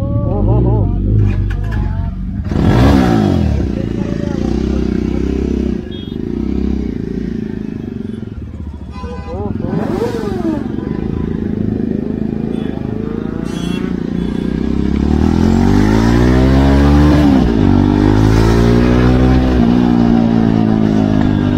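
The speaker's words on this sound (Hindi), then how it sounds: "सारी गाड़ियाँ निकल रही हैं अब राइड के लिए, सुपर कार सुपर बाइक सब हैं" Superbikes and supercars rev and pull away one after another on a group ride. There are loud close engine roars and rising acceleration sweeps, with several machines passing in sequence, under frequent talk from nearby people.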